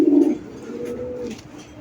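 A racer pigeon from 2022 with pomegranate-red eyes gives a single close, loud, throaty coo that trails off into a softer hum, with no talk over it.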